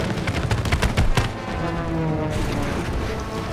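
Gunfire in the It Takes Two video game aimed at a plane's wings, a rapid burst of loud, close shots in the first second and a half, followed by a sustained rumbling engine-like drone.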